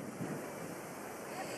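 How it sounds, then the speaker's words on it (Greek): Strong, steady wind roars through a wildfire scene at Plaka Keratea, a loud continuous rush of gusts buffeting close to the microphone with no talk. "Ο αέρας είναι τόσο δυνατός που σπρώχνει τη φωτιά προς όλες τις κατευθύνσεις."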